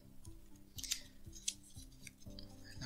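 Soft, close crinkling and scraping of folded paper being creased for an origami crane, quiet repeated rubs and a couple of crisp crackles.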